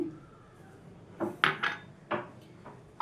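A spoon stirs cornflour into a beetroot halwa mixture in a metal pot, a few sharp clinks and scrapes of utensil against pot over a quiet background.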